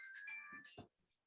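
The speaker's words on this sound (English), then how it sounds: "one of their cell phones is going off." A cell phone rings in the background, a faint electronic melody of bright tonal notes with a few low thumps, brief and distant before fading out.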